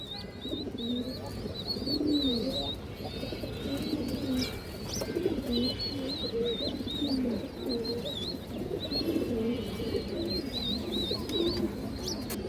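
Fancy pigeons coo repeatedly in soft, rolling phrases close by, with faint chirps and a rustling background but no talking.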